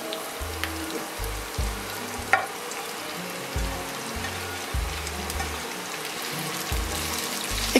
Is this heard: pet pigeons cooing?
no